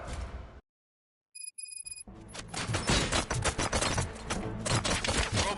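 Gunfire erupts in RoboCop: Rogue City after a brief silence with a few electronic beeps, then dense, loud bursts of shots and impacts rattle on continuously.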